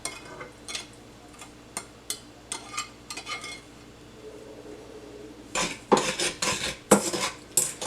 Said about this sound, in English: I'm putting the cottage cheese and sugar in the pan and keep stirring it in medium-low heat.